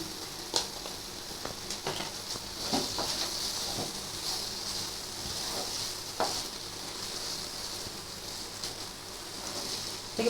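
Spoon stirring a milk peda mixture with cardamom powder in a pan over the gas, soft sizzling hiss with intermittent scraping clicks and taps, close and fairly quiet.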